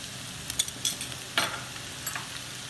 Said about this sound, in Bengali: আমি দিচ্ছি 2 টেবিল চামচ সয়া সস